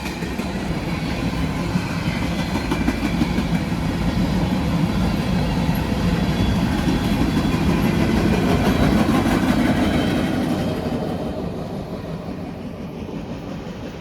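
An eastbound Norfolk Southern freight train passes slowly near the Madison Street level crossing, a steady rumbling roar of rolling cars and engine that holds loud, then fades a little toward the end.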